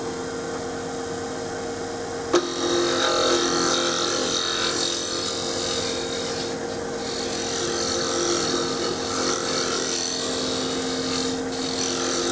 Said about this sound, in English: I'm just in the process of facing off or smoothing off the front face here.